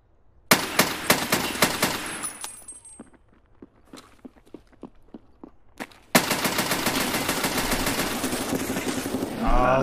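Rapid gunfire bursts from a military shooter game set in Escape From Tarkov, a loud opening volley, then sparse single shots and footsteps, then a sustained roaring stretch of dense automatic fire up close.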